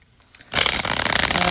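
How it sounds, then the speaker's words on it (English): A deck of tarot cards being shuffled close up: after a brief quiet moment, a dense, continuous riffling flutter of cards starts abruptly and keeps going loudly. "I'm going to use the same deck. I'm just going to shuffle it."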